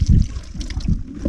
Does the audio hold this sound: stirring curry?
no